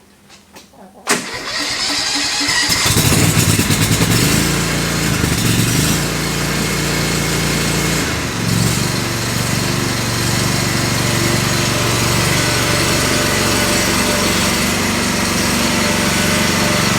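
A lawnmower engine sputters to life after a brief quiet moment, then runs loud and steady at close range for the rest of the clip, with no talking.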